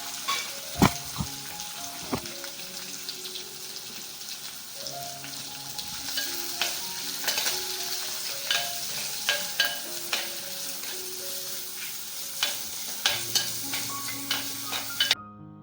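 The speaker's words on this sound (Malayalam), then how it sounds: "ആദ്യം ഈ സവാളയും പച്ചമുളകും ഒന്ന് വഴറ്റാം." Sliced onion and slit green chillies sauté in an oiled pan for a Kerala jackfruit seed mezhukkupuratti, a steady close sizzle broken by repeated scrapes and clinks of a stirring spoon.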